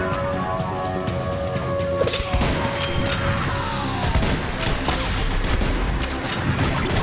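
Gunfire, explosions and crashes from the action game Huntdown, dense and loud with rapid bursts of shots and booming impacts layered over game music.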